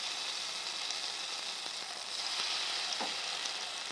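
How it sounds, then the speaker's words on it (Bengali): Cabbage manchurian fritters, spoonfuls of cabbage batter, frying in hot white oil in a pan, giving a soft, steady hissing sizzle with a small scrape near the end; no talking. "10 মিনিট ঢেকে রাখা মিশ্রণটির থেকে অল্প অল্প নিয়ে আমি বড়ার মতো ভেজে নেব।"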